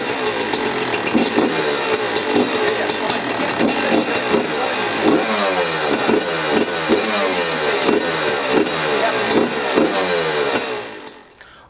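Freshly rebuilt Yamaha YZ125 two-stroke dirt bike engine running on race-gas premix during break-in, close and loud, with rhythmic revs rising and falling repeatedly before it cuts off at the end.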